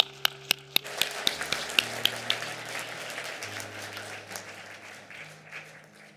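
A church congregation applauds retirees at a retirement thanksgiving service. A few sharp single claps come first, then a dense burst of applause that slowly fades.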